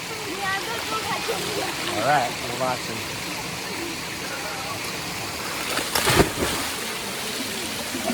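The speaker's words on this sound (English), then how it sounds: "Sliding down the waterfall." Rushing water and splashing run throughout as someone slides down a waterfall on the Judd Trail, with a louder splash burst near the end and people talking and calling out over the flow.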